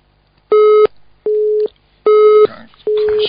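Telephone busy tone on a call-in radio line after the caller's connection dropped: four loud, steady electronic beeps in an even on-off rhythm, with faint background noise in the gaps.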